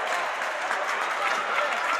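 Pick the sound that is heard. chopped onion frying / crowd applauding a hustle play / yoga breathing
crowd applauding a hustle play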